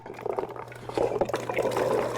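Chopped carrots and sweet potatoes dropped into a pot of meat broth, several soft splashes and plops in quick succession with liquid sloshing, close and fairly quiet.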